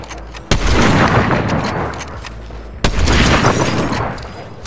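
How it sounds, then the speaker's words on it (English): Two heavy sniper rifle shots ring out in Fortnite, each a sudden loud crack followed by a long rolling echo that fades slowly, spaced a little over two seconds apart. "this has to be my favorite sniper rifle in Fortnite"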